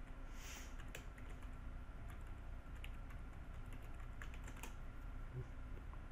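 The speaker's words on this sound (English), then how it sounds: "assuming I typed in the password correctly" A computer keyboard is typed on steadily to enter a password, with quick irregular key clicks close by over a constant background hiss.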